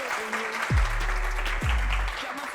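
An audience on a French comedy show applauds in a moderate wash of clapping, while two deep low thumps and a hum-like tonal drone sit beneath the crowd.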